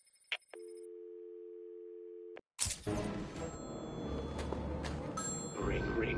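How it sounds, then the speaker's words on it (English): Telephone ringing in the video game Batman: Arkham City: a steady electronic ring tone holds for about two seconds before cutting off, followed by dense game ambience and music. "Ring, ring, ring. Find my phone, Batman."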